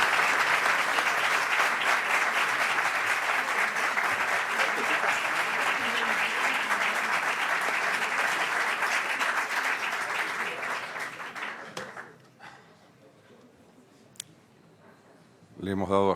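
An audience at a presentation of a civil and commercial procedure code reform project applauds in sustained, dense clapping for about twelve seconds, then fades to near silence before a brief sound at the end.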